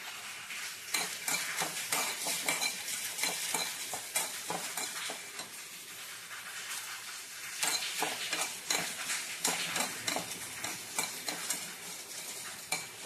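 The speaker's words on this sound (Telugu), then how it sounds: "ఇప్పుడు మనం ఎండుమిరపకాయలు వేసేద్దాం" Dried red chillies frying in a pan make a continuous crackling sizzle, broken by frequent sharp stirring scrapes and clicks of a utensil against the pan, heard close and fairly quiet.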